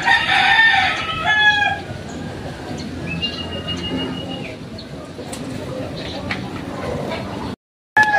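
A rooster crows loudly near the start of a rural training ride route in Pototan, Iloilo, followed by quieter bird calls against a steady outdoor background of low noise.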